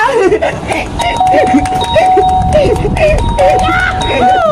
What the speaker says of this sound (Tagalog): Walang tao, pwede na ako magpindot sa doorbell nila.